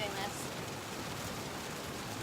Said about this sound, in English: It's raining like crazy out there.